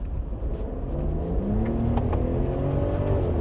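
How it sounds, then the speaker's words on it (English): A 2025 Ram 1500 Limited with the high-output engine of over 500 horsepower, in sport mode, accelerates hard. The steady, loud engine roar climbs in pitch as it picks up speed, with no talk over it. "Let me see if I put it in sport mode. So I have the high output engine, over 500 horsepower."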